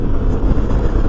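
Wind buffeting the microphone while riding a Suzuki Burgman 200 scooter, a loud, steady, rumbling roar with gusty fluctuations and no voices.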